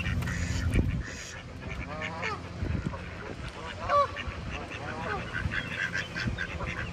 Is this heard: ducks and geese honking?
yes